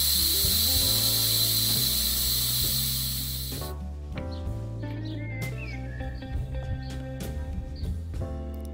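Pressurised air hisses steadily out of an e-bike tyre valve as the pressure is let off, then cuts away, leaving faint clicks and light metallic handling of the valve in a workshop.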